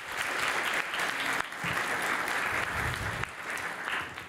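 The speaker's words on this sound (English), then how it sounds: "So a big applause." Audience applause fills a conference hall at a Python developer event, a steady dense clapping from a large crowd that carries on throughout without pause.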